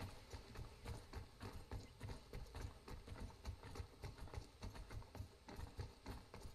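Horse hooves in Robin Hood Sherwood Builders clip-clopping at a steady, even walking rhythm, close and fairly quiet, with no talk over them.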